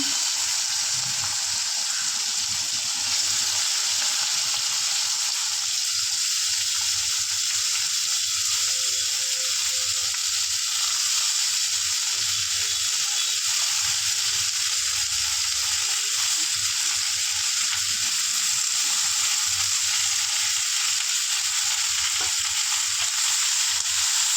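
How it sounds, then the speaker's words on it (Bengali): Radish, ridge gourd and potato pieces fry in hot oil, a loud, steady, close hiss and sizzle that never lets up. Faint stirring clatter sits underneath, and no one speaks. "মূলো ঝিঙে আলু কাটা রয়েছে তেলের মধ্যে এগুলো ছেড়ে দিলাম"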